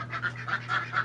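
Ducks quack in quick repeated bursts, five or six calls in a steady rhythm, close and clear above the constant hum of an evaporative cooler running nearby.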